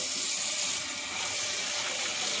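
Hot tap water pours steadily into a container for a homemade CO2 mixture in a grow tent setup, a close, even hiss of running water with no voices.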